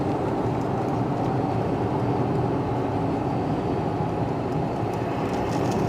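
A 2016 Ford F-550 truck slowing on the road, a steady broadband rumble of engine, tires and wind heard from inside the cab, even and continuous without a clear change in pitch.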